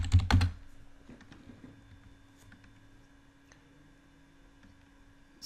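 A few quick keystrokes on a computer keyboard as a command is typed at a terminal, close clicks bunched at the start and then sparse taps over quiet room hiss.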